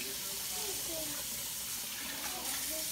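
Water from a kitchen tap streams into a sink as dishes are rinsed, a quiet steady hiss and splatter throughout without speech.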